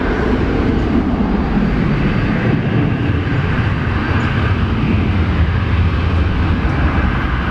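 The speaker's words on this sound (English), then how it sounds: "Virgin Australia taking off" A Virgin Australia Boeing 737-8 takes off from Brisbane International Airport, its engines producing a loud, sustained low roar that stays strong throughout.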